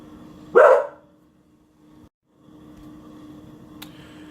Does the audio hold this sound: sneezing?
no